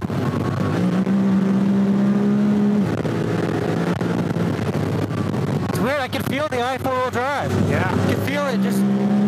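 A Honda Talon 1000X side-by-side drives off-road through Utah's Zion Canyon wilderness, its engine holding a steady, loud drone throughout. Excited voices call out over it near the end.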